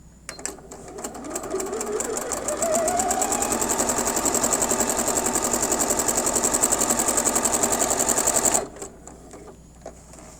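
A sewing machine fitted with a closed straight quilting presser foot and seam guide quilts a stabilized fabric sandwich, running in one continuous fast, even burst for about six seconds before stopping abruptly, close and clear.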